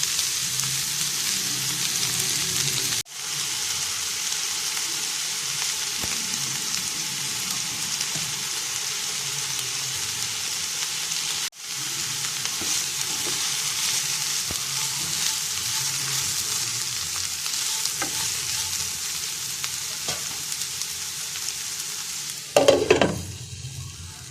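Bitter gourd sautéing in a pan, a steady close sizzle and fry hiss running unbroken, with a couple of brief dips and a short clatter of stirring near the end.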